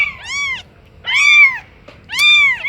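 A cat meows three times while being held, each call loud, close and drawn out, separated by brief pauses with faint background noise.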